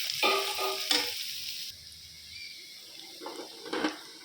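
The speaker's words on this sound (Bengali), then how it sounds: "ভেজে ভাজা হোক।" Spices frying in a pan with salt, turmeric, chili powder and sugar added, a sizzling hiss that rises in short bursts and settles back, close by, without talk.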